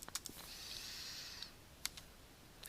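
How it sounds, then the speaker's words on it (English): Quiet keystrokes on a computer keyboard come in a few quick taps and clicks, separated by a soft hiss. "you just click in this box and start typing their email address"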